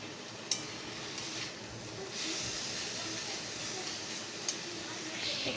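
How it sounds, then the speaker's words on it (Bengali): Rice boils in a pot on a home stovetop, giving a steady, fairly quiet hiss of bubbling and steam with a few faint clinks. "আর এখানে দেখতে পাচ্ছ আমি ভাত বসিয়ে দিয়েছি, এই যে ফুটেও এসেছে ভাতটা"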